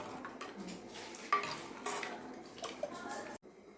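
A spoon scrapes and knocks against a pot while curry is stirred, quiet repeated clinks and scraping with a soft sizzle underneath, ending abruptly.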